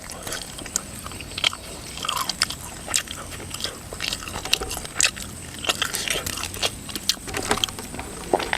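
Crunchy biting and chewing of dry, well-grilled field rat, close to the ear, with irregular crisp crackles and bites repeating over several seconds and no talking.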